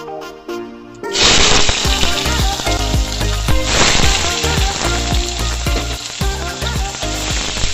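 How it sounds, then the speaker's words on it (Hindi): Chopped onion hits hot oil for a prawn malai curry, bursting into a loud, close sizzle that stays dense and crackling, with a second surge of spattering midway as it is stirred. "एबे आमे पकाइबू कटा प्याज"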